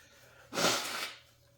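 A single sharp sneeze bursts out after a moment of quiet, loud and close, then fades into a brief breathy tail.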